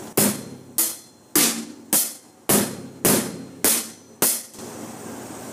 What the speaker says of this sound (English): Number three, classic rock beat, looks like this and sounds like this.